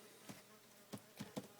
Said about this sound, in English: Got a bee buzzing about in here with us, I think.